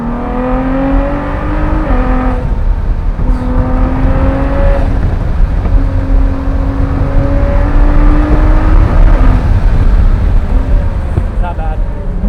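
A Ford GT with a titanium exhaust, traction control off, revs hard to high RPM, its loud, close engine note climbing in repeated rising sweeps between gear changes, with a continuous roar underneath.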